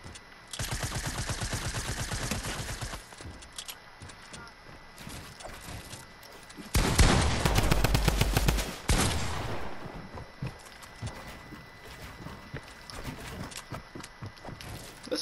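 Rapid automatic gunfire in the video game Fortnite comes in loud bursts, one long run early and a denser blast midway, with a player talking over and between the shots.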